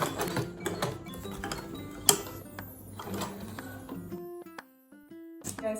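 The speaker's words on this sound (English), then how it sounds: "I'm just going to back stitch." A sewing machine back-stitches a sturdy denim bag with rapid mechanical whirring bursts, then short separate clicking stitches, close and clear.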